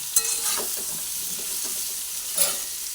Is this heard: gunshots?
no